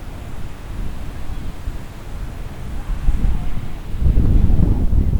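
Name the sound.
wind blowing at surf spot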